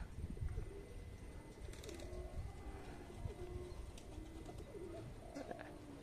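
Racing pigeons circle overhead as soft cooing and faint wingbeats come through a low, steady outdoor background, quiet and somewhat distant.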